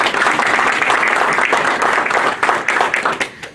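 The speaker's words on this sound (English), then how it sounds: "Another round of applause." Loud audience applause rings out at an anniversary celebration and awards ceremony, dense clapping sustained for several seconds before tapering off.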